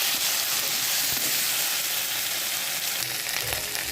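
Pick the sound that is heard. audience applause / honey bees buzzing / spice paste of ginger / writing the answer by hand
spice paste of ginger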